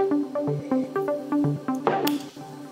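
Dry Moog synthesizer arpeggios pulse in a quick, even repeating pattern of bright plucked notes, moderately loud and close with no voices, a brief noisy swell near the end.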